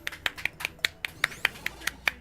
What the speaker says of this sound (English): Pretty sure you guys can hear it, but we did clap.